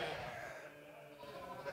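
Sheep of the Romanian Țurcană breed bleat on a farm in Bucovina, a close, steady bleating voice carrying through the short stretch with faint farmyard background.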